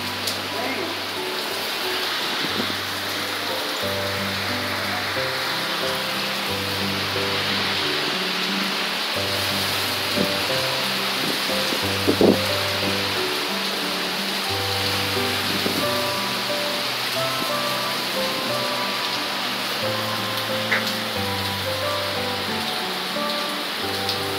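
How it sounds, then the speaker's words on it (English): Steady light rain falling and pattering on surfaces, a continuous hiss with occasional louder drops, under a low pulsing hum, with no talking. "little bit of rain."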